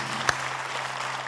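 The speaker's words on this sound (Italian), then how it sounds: "facciamo un applauso" An Italian television show audience applauds in a continuous patter of clapping with one sharper clap standing out, brief and fairly close.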